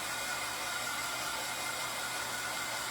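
A hair dryer blows steadily on craft ornament pieces, a constant broadband whoosh held close and loud with no break.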